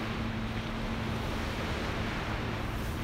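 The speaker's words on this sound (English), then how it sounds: "Boy, those waves don't take a break," Ocean waves break on a beach in a continuous, full wash of surf noise, steady and unbroken, with possible wind buffeting and no voices.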